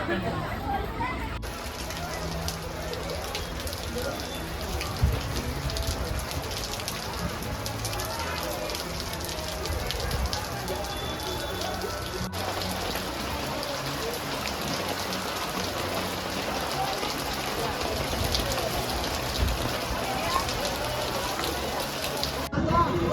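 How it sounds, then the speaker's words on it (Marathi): Steady rain falls and patters on a surface throughout a fish market, a constant dense hiss with faint voices murmuring in the background. "आता मस्तपैकी पाऊस आयलो ना का छत्री खोलून बैसतात"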